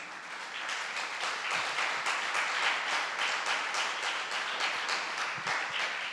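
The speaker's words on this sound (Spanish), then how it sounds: "den un aplauso al Señor" A church congregation applauds in a sustained, moderately loud wash of clapping that holds steady throughout with no talk.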